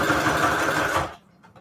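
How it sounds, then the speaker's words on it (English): A sewing machine runs in a close, steady mechanical whir for just over a second, then stops, leaving a few faint ticks and handling sounds afterward. "Should I focus on the sewing machine?"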